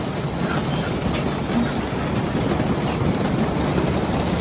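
Steady, dense mechanical rumble and clatter of a farm harvester elevator loading into a lorry, a loud broadband roar with faint rattling throughout, no voices.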